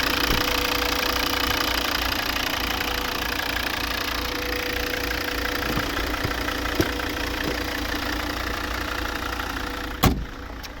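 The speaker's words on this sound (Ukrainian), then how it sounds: "Робота двигуна." A Volvo car engine idles steadily with a low, even rumble and faint knocking, close and continuous with no talk, ending in a brief sharp knock near the end.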